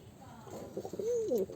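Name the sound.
pigeons cooing in a loft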